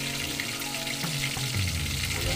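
Talbos ng kamote being cooked with a steady, broadband sizzle of frying in hot oil, close and continuous with faint stirring clinks in a pot.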